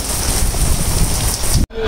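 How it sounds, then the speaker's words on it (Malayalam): Heavy rain mixed with falling hail drums loudly and steadily on surfaces during a trip in the Black Forest area, a dense continuous hiss that cuts off abruptly near the end. "നല്ല മഴ, ആലിപ്പഴം വീഴുന്നുണ്ട്."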